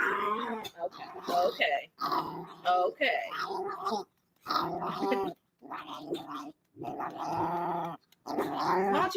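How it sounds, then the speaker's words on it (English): A dog growls and barks in agitated bursts, close by, while a person speaks briefly over the noise. "Why don't you see what he's barking at"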